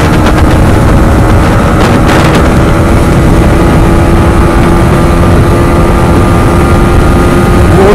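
A Yamaha MT-15 motorcycle with a faulty engine races along the road, its engine droning loudly and steadily at a sustained pitch with wind noise, close and continuous with no talking.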